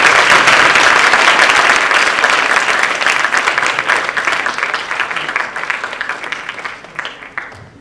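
A large audience applauds steadily after an evening talk on human trafficking, the dense clapping loud at first and then slowly thinning and fading toward the end.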